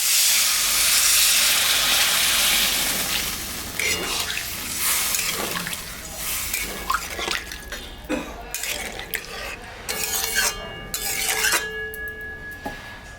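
Water poured into a pan of simmering fish curry gives a steady hissing, steamy rush at the start that fades into bubbling and scattered clinks of cooking.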